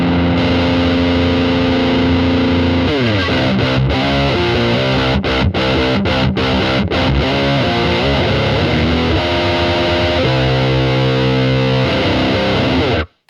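Heavily distorted electric guitar played loud through a cranked, boosted Marshall amp with mids pushed hard, chugging chords and riffs with brief choppy gaps, thick and saturated throughout.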